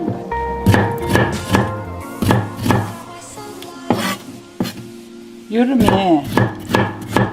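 Knife chopping through pickled cucumbers (oiji) on a cutting board, a brisk series of sharp close thunks in an uneven rhythm with brief pauses, and a short spoken phrase partway through.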